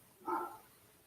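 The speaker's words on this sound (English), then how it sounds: "Doggy, oh, you can hear him." A single short, faint dog bark sounds at a distance, alone against a quiet room background.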